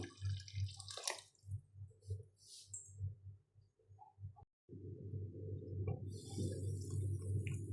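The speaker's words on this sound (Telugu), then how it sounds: "ఇప్పుడు ఇందులో కొంచెం వాటర్ యాడ్ చేసుకుంటున్నాను" Water pours steadily into a pot of sambar after a stretch of soft dripping and clicking, the stream continuing close and fairly quiet.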